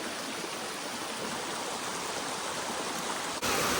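Amicalola Falls in Georgia roars as a steady, loud broadband rush of falling water, close and unbroken throughout, with no voices.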